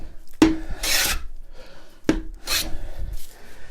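Two strokes of a hand plane shave pallet wood down to a marked line, each opening with a sharp knock and a rasping sweep, then a softer scrape, close and clear.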